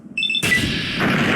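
A single loud gunshot in Fallout 3, a sharp close blast after a few short electronic beeps, followed by a lingering noisy rumble.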